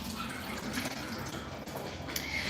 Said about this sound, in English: Let me rinse it one last time.